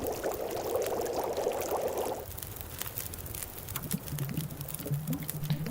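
Coffee is boiled in the survival game The Long Dark. A hissing, pouring wash of liquid gives way to soft, irregular bubbling and popping, close and moderate in volume, with no voices.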